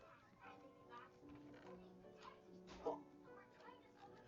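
A dog in a Minecraft-style video game whimpers and yips in short soft bursts, faint and distant, under a person talking.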